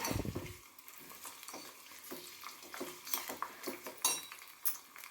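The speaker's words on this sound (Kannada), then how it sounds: "ಅದು ಈರುಳ್ಳಿ ಎಲ್ಲ ಫ್ರೈ ಆಗ್ತಾಯಿದೆ" Onions and curry leaves frying in hot oil, a soft sizzle under frequent clinks and scrapes of a metal spoon against the pan, close and fairly quiet, with no voices.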